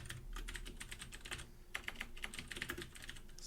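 Rapid, irregular keystrokes on a computer keyboard while writing C++ code, crisp close clicks in quick bursts with brief pauses, fairly quiet and alone.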